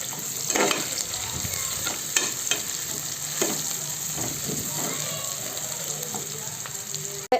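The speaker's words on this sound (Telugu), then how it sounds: "పచ్చిమిర్చి ఆయిల్లో వేయించేసుకుంటున్నాను." Green chillies and garam masala fry in hot oil for chicken egg biryani, producing a continuous close sizzle punctuated by several soft stirring knocks, ending with an abrupt clunk.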